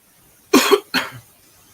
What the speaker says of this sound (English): Just coughing all that shit up.